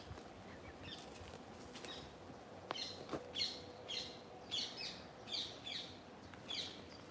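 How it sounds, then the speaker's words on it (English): A parakeet calls in Perivale Wood, a woodland: a run of about half a dozen evenly spaced harsh, chirping squawks at moderate distance over quiet outdoor ambience, with a few sharper notes just before. "Fairly vocal parakeet there"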